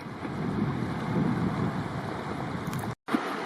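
Drummond Creek in Banff's Front Ranges rushing along during a backpacking trip, a steady broadband wash of flowing water heard up close, continuous and fairly loud, briefly cut by a short dropout near the end.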